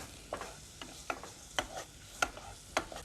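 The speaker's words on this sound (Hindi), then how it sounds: "ये दोनों चीजों को हमने सौते करना है" Finely chopped onion and carrot being sautéed, heard as quiet, evenly spaced scraping strokes of a spoon about every half second, with only a faint sizzle beneath.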